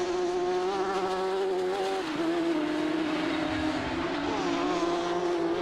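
RX150 rallycross cars accelerate hard across a loose surface at Lydden Hill on a dry, sunny day, a steady buzzing engine drone rising and falling in pitch, loud and continuous with no talk.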